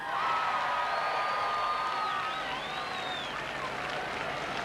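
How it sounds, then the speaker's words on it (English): Audience applause for a singer at a stage show at Expo 88, steady and sustained clapping from a crowd throughout, with faint cheers mixed in. "Give her a big round of applause"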